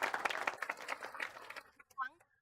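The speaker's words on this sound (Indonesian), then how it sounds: "Tepuk tangan dong." Studio audience clapping on a children's quiz show, a brief burst of applause that fades after about a second and a half, followed by a quiet voice.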